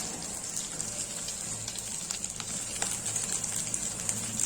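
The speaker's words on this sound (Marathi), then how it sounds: "थोडस तेल घेतलंय अगदी एक चमचा ह्यामध्ये आपण ही भेंडी परतून घेणार आहोत" Okra pieces frying in a spoonful of oil give a soft, steady hiss with scattered tiny pops and crackles, faint and close, with no one talking.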